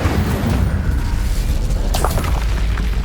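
An Incendio fire spell explosion in Hogwarts Legacy, a loud, sustained fiery boom with a deep rumbling roar that fills the whole moment, joined by a sharper burst near the middle.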